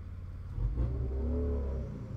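A loud car outside a house revs its engine in a brief rising surge and then holds a rough, throaty drone, heard from nearby with no talking.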